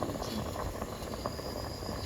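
Potatoes boiling in a pot on a gas stove, a steady close bubbling hiss that runs unbroken without speech.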